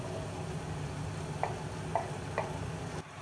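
Hotdog pieces sizzle in a hot pan over high heat while being stirred, and three distinct spatula scrapes stand out over a steady frying hiss.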